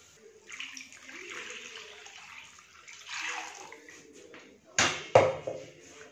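Water swished in a mixer grinder jar and poured into a pan of simmering Kerala-style egg curry, a few soft splashes and pours close by followed by two sharper clunks near the end.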